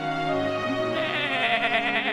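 A cartoon sheep lets out a single drawn-out, wavering bleat, loud and close, lasting about two seconds.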